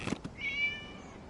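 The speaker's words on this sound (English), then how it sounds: "It was just a cat." A single cat meows in the video game Genshin Impact, a short drawn-out call after a couple of soft taps, fairly faint and alone.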